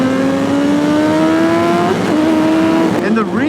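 A 2021 BMW S1000RR sport bike engine runs loud and close, its pitch climbing steadily through the gears with a brief dip before rising again, then voices break in near the end.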